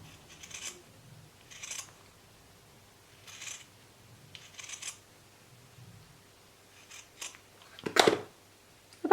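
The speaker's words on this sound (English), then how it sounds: "So all I need to do is cut out some tiny pieces this time." Scissors snip through small pieces of fabric for an owl art piece made from old clothes, giving several short crisp cuts spaced across the stretch, close and moderately loud, with one sharper louder snip near the end and no talking.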